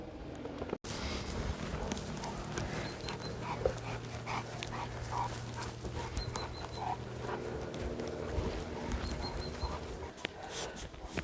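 Two Saint Bernard dogs panting and moving around close by on a sheep and goat farm, with steady heavy breathing, soft shuffling steps and a faint low hum in the background.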